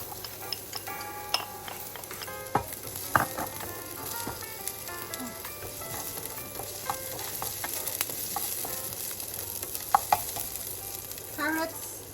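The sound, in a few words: garlic and onion frying in a pan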